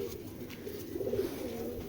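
Pigeons coo in low, soft throaty bursts while being handled, with a steady murmur of background noise and a slightly louder swell of cooing midway.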